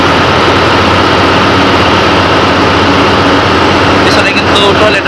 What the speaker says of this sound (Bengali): এখানে হিউজ পরিমাণে ইঞ্জিনের সাউন্ড হচ্ছে।